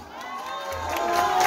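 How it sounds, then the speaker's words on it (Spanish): A crowd at a party for a birthday woman cheers and whoops with some applause, a dense, steadily swelling roar of voices that grows louder toward the end. "¿Y dónde están los aplausos allá para la festejada?"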